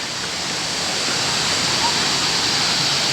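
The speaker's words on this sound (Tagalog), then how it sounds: "This place is Hinulugang Taktak Pagsangan Falls." Hinulugang Taktak waterfall in Antipolo, Philippines, roars as a steady, dense wash of falling water, loud and continuous throughout with no breaks.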